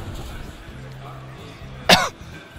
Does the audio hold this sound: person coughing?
yes